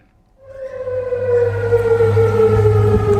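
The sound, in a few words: civil defense sirens wailing in Amman during Iranian missile attack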